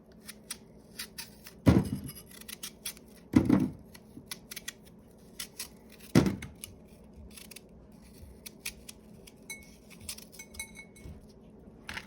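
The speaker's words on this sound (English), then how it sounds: "I'm just going to quickly dice these apples" A kitchen knife dices two freshly peeled apples on a cutting board: three sharp, separate chops ring out near and clearly, with quieter light knocks in between and no talk.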